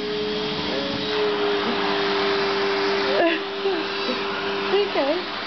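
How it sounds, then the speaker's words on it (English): A household vacuum cleaner drones steadily nearby with a whining motor hum, while a person's voice briefly rises over it. "What happened to the vacuum?"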